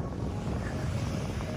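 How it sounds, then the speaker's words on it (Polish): Steady outdoor wind in Zanzibar buffets the microphone with a continuous low rumble, loud and unbroken throughout, with no talk. "Trochę wieje na pewno i szumi."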